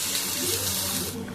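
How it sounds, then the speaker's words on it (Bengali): Hot water from a bowl of spices is poured into a cooking pan while making paratha gravy, a steady close splashing gush that tapers off at the end, with no talking. "এখন এই জলটুকু আমি এখানে দিয়ে দেব।"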